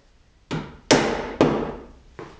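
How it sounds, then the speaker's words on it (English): A mallet strikes metal four times at uneven intervals while fitting a car's lambo doors, each blow sharp and close with a brief ringing decay. "Don't use your hand, use a mallet."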